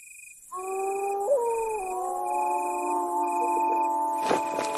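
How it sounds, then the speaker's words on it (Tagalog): Several dogs howl at night in long, wavering, overlapping tones, steady and moderately distant, before a brief burst of crackling noise at the end. "Yan ang tunog ng mga aso kapag may nakikita silang aswang."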